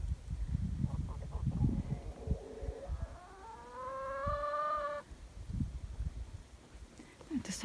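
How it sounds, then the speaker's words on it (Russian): Chickens cluck and squawk in a barn-like shed on a farm, one rising drawn-out call standing out over softer scattered clucks and shuffling noise, fairly faint and nearby. "Куры!"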